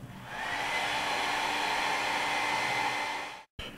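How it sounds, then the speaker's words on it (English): Hair dryer blowing hot air on a Samsung Galaxy S4 to loosen its adhesive: a steady close whirring roar that runs several seconds, then cuts off abruptly near the end. "I think I'm gonna put a hair dryer on it for a second"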